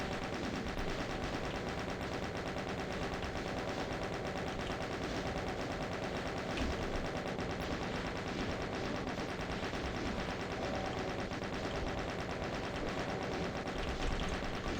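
Steady, dense chain gun fire from DOOM 2 on the Sunder map, loud and unbroken rapid bursts that roar on for the whole stretch with no talking.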